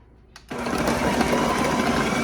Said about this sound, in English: We're gonna cover it. I'm gonna puree it.